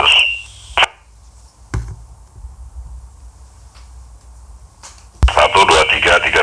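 A Motorola DP 4600 two-way radio with mic gain set full plays back voice audio: a short burst, a long low hiss, then loud, dense radio-transmitted speech near the end.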